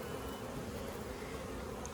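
Honeybees hum in a steady, continuous drone during a hive frame inspection, close and unbroken, with no voices.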